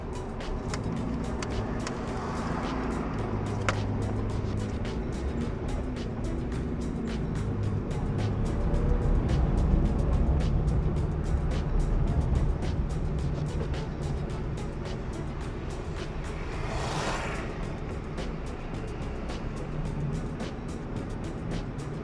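Car driving along a street in São José dos Pinhais, Brazil, heard from inside or close by as a steady engine and road rumble that swells slightly midway, with faint traffic in the background.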